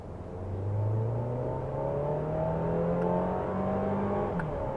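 A 2024 Mercedes-Benz GLA 200 accelerates in sport mode from inside the cabin. The engine drone rises steadily in pitch through the gear, swells to a moderate level, then dips briefly near the end.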